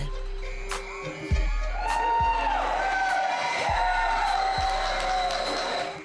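Staff at an Asian theme park wave and applaud as a ride gondola sets off, with cheering and clapping under a rumbling ride mechanism and repeated low thumps, a loud, busy crowd wash throughout.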